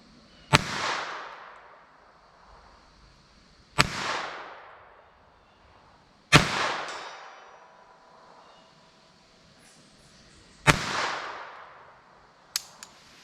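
Four sharp Norma TAC-22 rimfire gunshots ring out at irregular intervals outdoors, each followed by a decaying ring from a steel silhouette target, with one fainter crack at the end.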